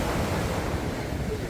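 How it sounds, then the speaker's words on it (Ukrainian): Sea waves breaking on a beach in Turkey, a steady close wash of surf with a constant roar and some wind rumble on the microphone. "Дивіться, яке море, які хвилі"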